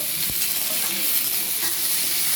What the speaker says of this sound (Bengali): চৌকো চৌকো করে কেটে রাখা ক্যাপসিকাম আমি দিয়ে আবার নেড়ে নেব, আবার একটু ওর সঙ্গে সটে করে নেব